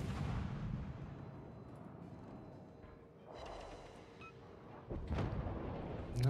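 Naval gunfire from a warship in World of Warships, with deep booming shots at the start, around the middle and near the end over a steady low battle rumble.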